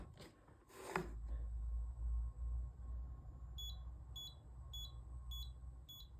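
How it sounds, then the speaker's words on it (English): A CE Electronics ACME lift position indicator sounds its floor-passing chime, a series of about five short, evenly spaced electronic beeps over low hum, following a brief clatter at the start. "As you can hear, the floor passing chime works just as it should."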